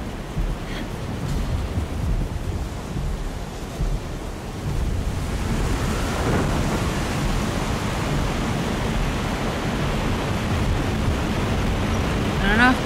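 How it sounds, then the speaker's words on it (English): Steady roaring rain and wind of a thunderstorm in the game Alone In The Dark, a broad continuous wash of noise that grows denser partway through and stays loud to the end. "being up here in the middle of a storm is very safe"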